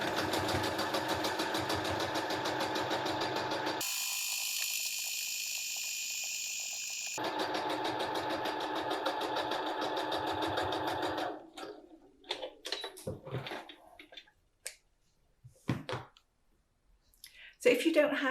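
Sewing machine stitching a diagonal line across quilted cotton fabric, a steady mechanical whir running for several seconds, pausing briefly, then resuming before stopping, followed by scattered handling clicks.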